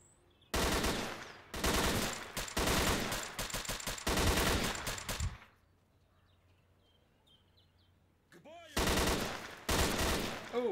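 Assault rifle gunfire in the S.T.A.L.K.E.R.: Clear Sky video game, loud close bursts of rapid automatic fire, a long stretch of several volleys, a quiet pause with a faint chirp, then more bursts.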